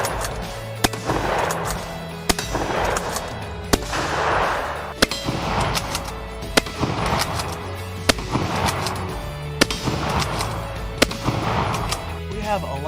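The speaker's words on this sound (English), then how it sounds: "random stuff that we discovered we can fire out of a shotgun" A shotgun loaded with random improvised objects fires sharp, loud blasts about every one to one and a half seconds, with echoing tails and muffled voices between shots.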